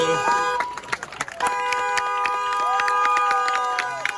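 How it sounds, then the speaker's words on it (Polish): Protest crowd in Belarus chanting the country's name against Lukashenko, a dense rhythmic roar of many voices with whistles and car horns sounding in support, loud and continuous throughout. "No i przede wszystkim bardzo wiele okrzyków Białoruś, Białoruś."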